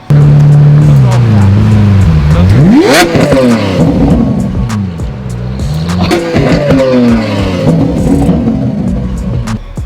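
A Lamborghini Aventador engine revs hard and loud up close, with sharp rising sweeps and crackling bursts from an exhaust that shoots flames, repeated several times.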